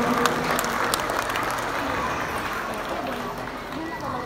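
A crowd at a school ceremony applauds an invited guest, a broad wash of clapping that stays steady and fairly loud throughout, with some murmuring from the audience underneath.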